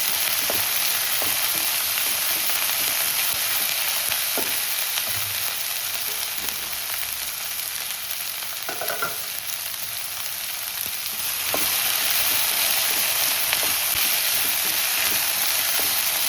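Curry leaves and spices sizzle steadily in hot oil in a pan, a continuous frying hiss with occasional faint stirring clicks and a brief louder crackle near the end, no talking.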